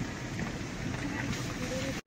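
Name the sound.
rain falling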